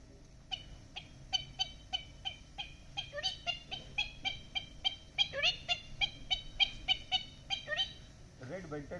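A rapid series of sharp, chirpy whistled notes imitating a red-vented bulbul's call, repeating in quick rhythmic bursts, close and fairly loud, ending with a lower trill.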